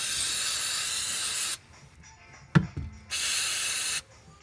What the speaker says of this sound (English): just spray the brake cleaner onto that oil stuff